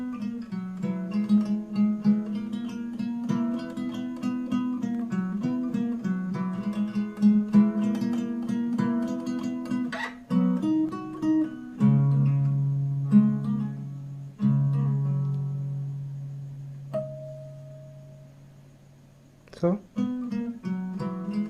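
Fingerstyle acoustic guitar plays the bridge of a song, plucked melody over a low bass line that thins into sustained single notes and a ringing pause before picking resumes.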